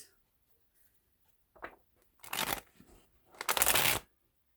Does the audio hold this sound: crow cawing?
no